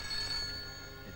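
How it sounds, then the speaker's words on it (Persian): An old telephone rings in a quiet room in a Persian film, a steady bell tone held through the whole short moment with no voices over it. "زنگ میزنه تلفن میسنه."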